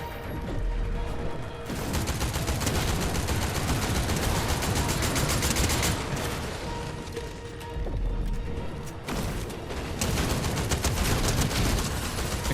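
Sustained gunfire from a Fortnite Chapter 6 Zero Build match rattles on almost without pause, dense bursts broken by two brief lulls, loud and close with no talking.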